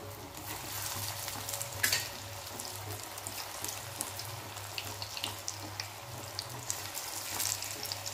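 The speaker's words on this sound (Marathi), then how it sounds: "आता मीडियम टू लो गॅस ठेवायचं आणि तळायचे आपले स्वीट कॉर्न पकोडे" Sweet corn pakoras deep-fry in hot oil over medium-low heat with a continuous bubbling sizzle, a low steady hum beneath and scattered sharp crackles and pops.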